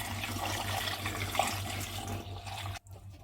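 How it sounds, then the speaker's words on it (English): Fermented longan fruit wine pours steadily into a fermentation tank, a continuous splashing stream over a low hum that cuts off abruptly near the end. "I'll pour it into a fermentation tank."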